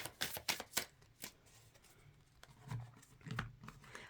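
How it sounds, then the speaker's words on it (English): Close riffle shuffles of a brand-new card deck: several sharp bursts early, then softer sliding and bridging sounds, quiet with no talking. "This is a brand new deck, so make sure I shuffle it pretty good here."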